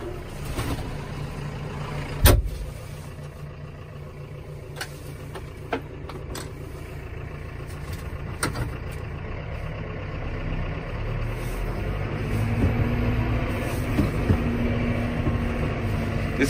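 A John Deere 6120M tractor engine rumbles steadily while driving, with a low, even drone, occasional knocks and clicks, and a slight rise in revs toward the end.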